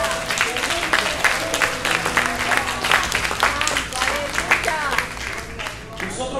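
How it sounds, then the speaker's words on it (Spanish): A church congregation at a Spanish-language worship service breaks into sustained, lively applause, many hands clapping close and steady with some voices mixed in. "dale un aplauso en este hermoso día"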